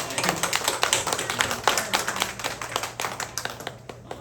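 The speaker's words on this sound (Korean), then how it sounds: "하나님께 영광의 박수 한번 할까요?" A church congregation applauds steadily, many hands clapping together in a dense, rhythmic patter that holds for several seconds before starting to thin out.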